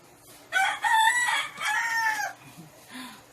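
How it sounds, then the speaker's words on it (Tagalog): A farmyard rooster crows loudly and close by in two long drawn-out calls, followed by a few softer clucks from the fowl. "Pasensya na kayo sa manok namin."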